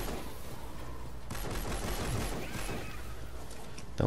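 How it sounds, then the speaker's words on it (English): Weapons firing in Fortnite Save the World, a steady stream of rapid, fairly quiet shots blending into a continuous rattle that runs throughout, with one sharper burst right at the end. "So I just aim and fire, you know"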